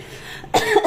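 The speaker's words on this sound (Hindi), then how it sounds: "उसी की मिर्चा की भस लगी है इसलिए खांसी भी" A cough or two bursts out near the microphone in a home kitchen, provoked by chili fumes from a vegetable dish frying alongside ghee, preceded by quiet room noise.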